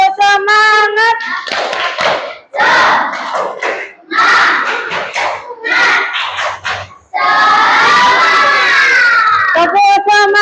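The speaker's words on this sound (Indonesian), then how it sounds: "sebelum kelompok 1 presentasi, kita tepuk semangat dulu" A school class doing a rhythmic spirit clap chant, groups of children shouting in unison between bursts of claps, loud and close in a room, with a teacher's voice at the start and end.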